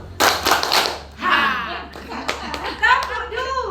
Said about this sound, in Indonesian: Tepuk satu.